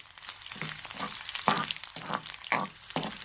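Ginger frying in a pan while it is stirred, a soft sizzle with several light scrapes and clinks from the spoon at irregular intervals, close and fairly quiet, with no voices.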